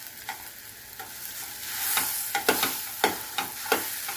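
Boiled potato being stirred with ground spices in a hot pan: a steady frying sizzle under a series of distinct scraping stir strokes, growing more frequent and pronounced toward the end.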